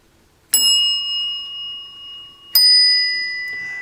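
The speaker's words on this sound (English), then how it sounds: "it ends with a nice ting without it touching the gong, so these gongs are both adjusted okay" An old telephone's bell strikes its metal gongs twice, two bright ringing tings about two seconds apart, each ringing on and slowly decaying, close and loud.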